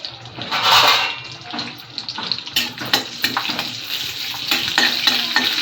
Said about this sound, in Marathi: त्या लांब मिरच्या भाजून घ्यायच्या चांगल्या।